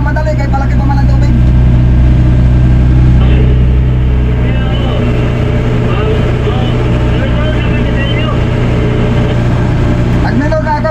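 A boat engine runs on a swollen river, a loud, unbroken motor drone that holds steady throughout, with voices heard faintly beneath it.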